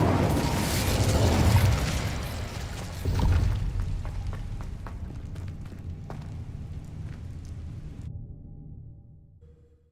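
The Incendio fire spell is cast in Hogwarts Legacy with a loud burst of roaring flame, a second whooshing swell about three seconds in, then crackling pops and a fading magical tone that cuts to near silence.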